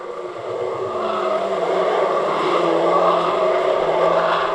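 Pro stock cars racing at Cowdenbeath Racewall, with a loud, sustained engine roar from the pack that swells slightly as the cars come around the bend into the home straight, no voices.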